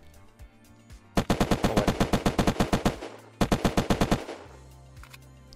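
Rapid automatic gunfire in the survival shooter Unturned, two loud bursts of evenly spaced shots separated by a short pause, with a brief spoken interjection.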